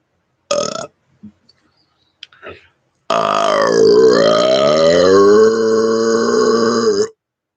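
A few short vocal noises, then a long, loud, drawn-out burp rumbling for about four seconds, close to the listener.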